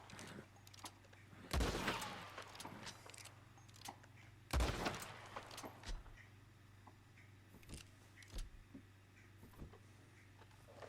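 Gunshots ring out near a horse in Red Dead Redemption 2, a loud blast followed by a second about three seconds later, then scattered fainter shots over a steady low hum.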